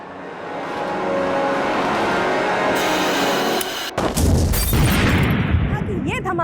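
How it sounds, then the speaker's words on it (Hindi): A steady rumbling din is cut by a sudden loud gas cylinder explosion near a food stall, followed by chaotic crackling noise and muffled voices. "ये धमाका किसी गैस सिलेंडर के फटने से हुआ है"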